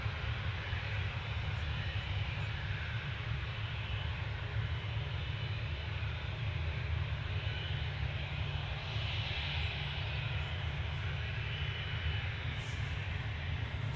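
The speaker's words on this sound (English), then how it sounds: "So it's off to Tenerife. This is GFDZY, flight BY2354." A jet on flight BY2354 to Tenerife takes off from Manchester with a steady, sustained engine roar and deep rumble, unbroken and even for the whole stretch, with no talk over it.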